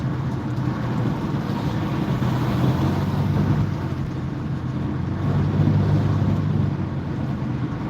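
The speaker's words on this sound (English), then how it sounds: "I want you to hear some of these sounds so you know what it's like on the expressway." Steady road roar and wind rush inside a car moving at highway speed on a Midwest expressway, a continuous loud rumble that swells slightly at times, with no talking.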